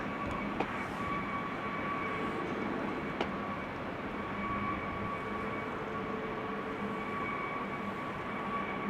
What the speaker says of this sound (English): TUI Max 8 just landed